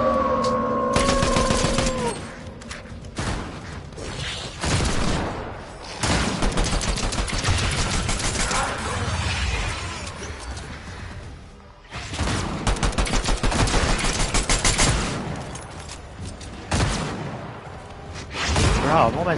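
Rapid bursts of gunfire in the video game Fortnite, loud and dense, with weapon fire and effects in repeated waves across the whole stretch, while players talk over it.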